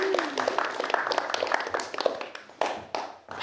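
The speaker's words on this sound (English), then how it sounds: "Let's give a round of applause for Chaz." A small audience at a talk claps briefly, with scattered uneven hand claps that stay fairly quiet and thin out toward the end.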